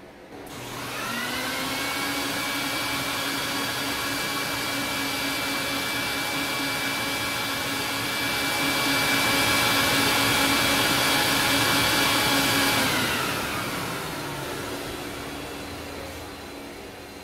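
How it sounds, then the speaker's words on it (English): A PetPeePee machine's vacuum pulls urine and cleaning solution out of an Oriental rug, giving a loud, steady whine with a constant airy roar that holds for about twelve seconds and then winds down at the end. "Take a look how the vacuum in the PetPeePee machine extract all the urine, all the cleaner"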